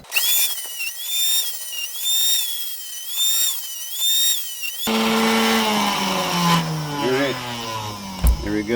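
A power saw cuts arrow shafts to length, a loud whining bite that sweeps and bogs down through the material after a steady high-pitched motor hum.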